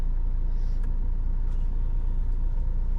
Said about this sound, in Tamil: வண்டி வருது, வெயிட் பண்ணுங்க.